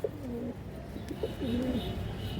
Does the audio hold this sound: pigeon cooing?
yes